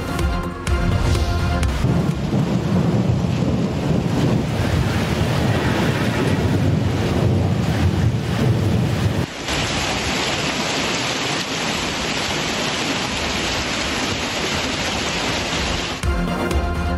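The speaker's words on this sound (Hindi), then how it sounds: "इस्लामाबाद में शदीद तूफान और मूसलाधार बारिश, यालाबारी, दिन में रात हो गई।" A severe thunderstorm in Islamabad: heavy rain and strong wind roar continuously and loudly, with a dense wash of pouring rain that shifts in character partway through, and no voices.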